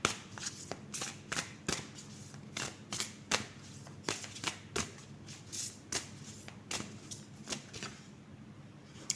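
Tarot cards shuffled and drawn by hand, a quick series of sharp papery flicks and snaps in irregular bursts, close and fairly quiet against a hushed room.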